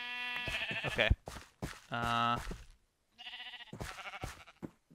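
Sheep bleating in a Minecraft-style video game, several short harmonic bleats in quick succession, loud and close, with a brief spoken word between them.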